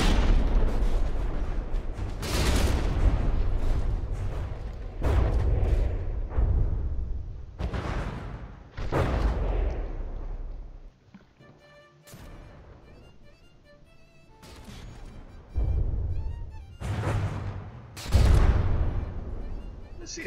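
Warship guns fire in the From the Depths naval combat game: a series of heavy booming blasts at irregular intervals, some overlapping, with a quieter lull in the middle and a final strong boom.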